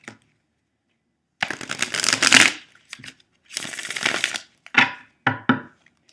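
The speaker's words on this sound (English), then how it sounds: "I'm going to give it one more shuffle here." A tarot card deck being shuffled up close, with long riffling bursts of cards followed by several short, sharp card snaps, separated by moments of silence.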